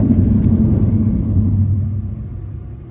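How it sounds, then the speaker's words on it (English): Low rumbling noise from the nose landing gear of a Boeing 747, heard from a seat near the nose wheel during retraction, loud at first and then easing off as the cabin quiets. "one crazy thing about sitting so close to the nose wheel on the 747 is how much noise it makes"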